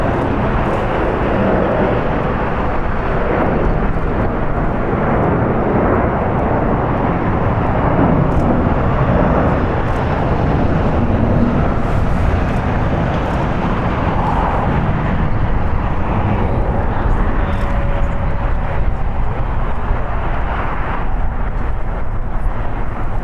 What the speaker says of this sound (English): Once again, United Express Flight 5361 going to Austin. It's an Embraer E175 LR